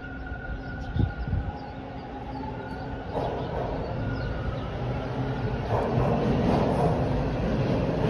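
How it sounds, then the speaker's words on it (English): A westbound Line 2 subway train rumbles past, its noise building from a low drone into a louder steady roar with a faint high tone running through it. "That's the westbound train."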